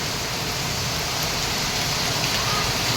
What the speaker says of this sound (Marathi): रात्रीचे अकरा वाजलेत आणि पाऊस कसला तुफान पडतोय बघा